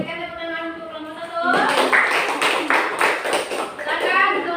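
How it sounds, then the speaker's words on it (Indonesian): A class of students claps for a student group in a lesson. A voice speaks first, then a burst of brisk, fairly close clapping follows for about three seconds. "Berikan tepuk tangan untuk kelompok"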